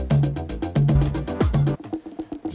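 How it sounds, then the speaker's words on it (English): Sampled loop played through an arpeggiator with a randomized playhead, giving choppy repeated tonal stabs with sliding pitched notes and a low bass pulse, loud and alone, turning sparser and thinner near the end. "pulling in a loop into a sampler with an arpeggiator in front"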